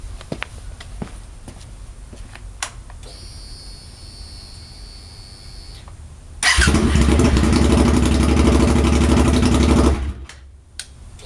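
Suzuki SV1000S motorcycle running with its exhaust removed: a quiet idle-like hum and faint clicks first, then a loud, raw, broadband engine roar surging for about three seconds before dropping back.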